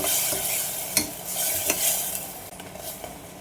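A spoon stirs garam masala and chili powder into sizzling oil for prawn masala in a pan, with several distinct scraping strokes over a continuous close, loud frying hiss.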